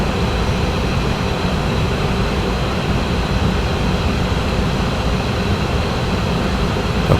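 Steady, loud rumble of a BR642 regional diesel railcar running along the line in the Train Sim World 5 game, a continuous even drone with no talk over it.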